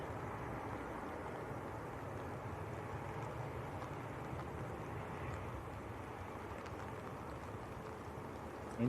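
An EasyJet Airbus A319 arriving from Berlin produces a steady, low engine roar at a distance that stays even throughout, with no voices.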